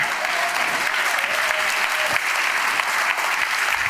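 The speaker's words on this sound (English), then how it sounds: "Okay, big clap, applause." An audience claps on cue at a stage show, a dense, sustained burst of applause that stays loud and steady from start to finish.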